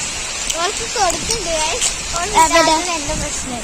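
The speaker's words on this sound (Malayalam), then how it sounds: "നല്ല മഴ പെയ്യാൻ തുടങ്ങി" Heavy rain makes a steady, dense hiss throughout while people talk over it close by.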